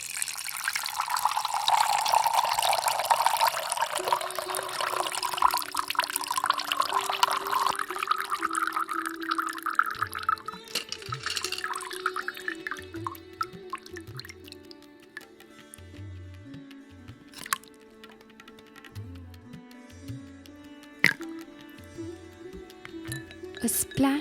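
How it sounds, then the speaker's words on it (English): Feni and gin cocktails poured into glasses over lots of ice, a bright rushing pour early that settles into lighter trickling and clinks, with faint music underneath. "Pour those stunning drinks"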